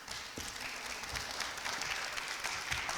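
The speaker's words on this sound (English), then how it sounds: "So a round of applause, please." Audience applause at a graduation ceremony, a steady, even wash of many hands clapping throughout at moderate level, with no voices above it.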